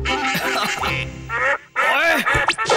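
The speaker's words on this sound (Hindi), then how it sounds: "बतखिया चिल्लाए, सारे बतख उड़ते चले आए।" Cartoon ducks quack loudly and repeatedly in a Hindi Oggy and the Cockroaches episode, brisk nasal calls bursting in close succession with a brief gap midway.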